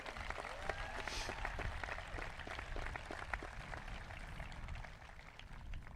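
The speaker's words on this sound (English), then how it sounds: "Let's give all of our speakers a nice round of applause." A graduation crowd at a high school ceremony gives the speakers a round of applause, a faint, distant patter of many hands clapping steadily throughout.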